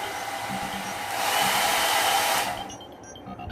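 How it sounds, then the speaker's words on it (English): A hot air brush blows steadily, swelling louder for about a second, then cutting off to a faint hum. "from here the air comes out, and this is the noise"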